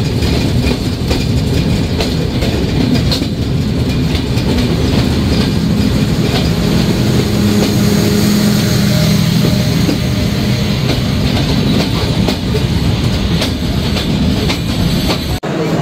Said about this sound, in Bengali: ছেড়ে যাচ্ছে ধূমকেতু এক্সপ্রেস।